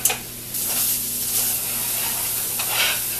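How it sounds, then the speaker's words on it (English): Sausage browning in a pan for sausage gravy hisses in a steady, moderate sizzle, with a brief spatula scrape near the start and swells of crackle near the end; no voices. "as our sausage starts browning, you want to use the end of your spatula"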